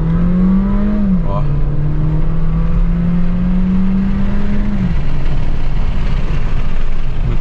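A VW Polo GTS with a stock engine and an RS sport intake air filter revs in the street, a loud, close droning engine note that climbs at first, holds steady, then drops and fades into a rougher hum.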